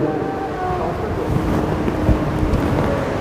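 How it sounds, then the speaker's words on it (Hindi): Rough open water, with a boat labouring northward against strong seas. A loud, steady, broadband wash of waves and wind roars throughout, with a few heavier surges. "आज समुद्र नारायण भी खूब तेज है।"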